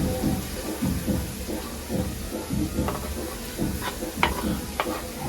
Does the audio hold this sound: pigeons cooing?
no